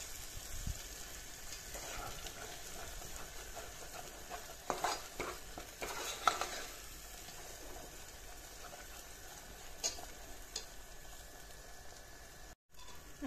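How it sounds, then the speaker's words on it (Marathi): Ground black masala frying in oil makes a soft, quiet sizzle, broken by occasional stirring scrapes and a few louder clatters midway. "आता याला छानपैकी मस्तपैकी परतून घेऊया तेल सुटेपर्यंत."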